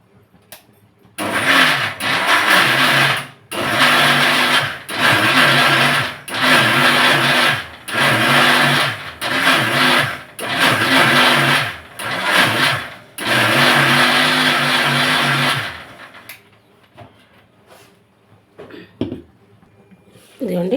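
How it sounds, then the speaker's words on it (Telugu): A kitchen mixer grinder blends tomato in about eight loud whirring bursts, each a second or so long with short pauses between, then it stops and a few faint clinks follow in the quiet. "ఇంకో టమాటా కూడా నేను మిక్సీ పెట్టేస్తాను."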